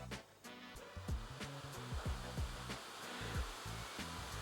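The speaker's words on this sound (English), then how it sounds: "Just listen to the fan noise." Acer Predator Helios Neo 16 gaming laptop cooling fan, a steady airy whoosh heard close up, with some thumping knocks over the constant blowing.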